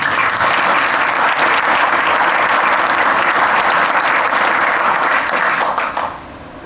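An audience at a dedication event gives a full, sustained round of applause, a dense, even wash of clapping that holds steady for about six seconds before tapering off at the end.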